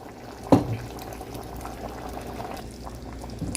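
Meat broth is poured into a simmering pot of Nigerian efo riro soup, starting with a short splash and continuing as a low bubbling, liquid gurgle close by.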